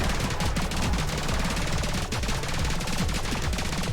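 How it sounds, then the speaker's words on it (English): Rapid bursts of gunfire from the rhythm shooter game Rhythm 'n Bullets, dense and continuous over a driving music track, loud and steady throughout. "Rapid fire."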